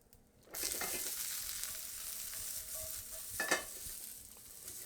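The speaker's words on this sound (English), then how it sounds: "And now I'm going to add some of my minced garlic" Minced garlic sizzles in hot oil in a pan, starting abruptly after a quiet half-second and holding a steady, close, bright frying hiss with a brief stir near the end.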